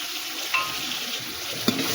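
Carrots and beans frying in oil with turmeric are stirred in a pan, giving a soft steady sizzle with a couple of brief scraping clinks of the spoon, close and quiet.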